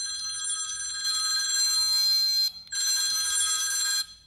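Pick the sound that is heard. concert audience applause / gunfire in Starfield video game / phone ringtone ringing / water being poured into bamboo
phone ringtone ringing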